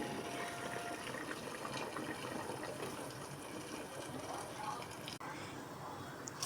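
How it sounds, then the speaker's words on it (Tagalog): Water poured into a simmering pot of chicken tinola with pechay, a steady broad gushing splash running throughout over kitchen background noise, with a brief break near the end. "Dagdagan na natin ang tubig."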